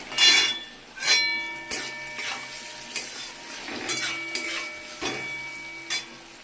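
Okra being stirred with Kashmiri chili powder and salt in a pan, metal spoon scraping and clinking against the pan in irregular strokes over a steady sizzle of frying.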